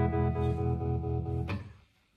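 Electric guitar through a Roland Cube amp with tremolo, soft pickup and a touch of echo, playing swamp blues: a sustained chord pulses in steady throbs, then decays and fades to near silence.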